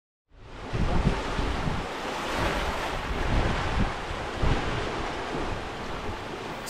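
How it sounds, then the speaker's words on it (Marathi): Loud sea waves surge and crash against the stone walls of Padmadurg, a sea fort off the Maharashtra coast, in a continuous roar with gusting wind buffeting the microphone and no voices. "आवाजाने भरलेला समुद्र मनाला शांतता देत होता"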